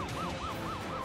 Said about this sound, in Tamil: நான் காதுல விழுந்துதா சைரன் சத்தம்.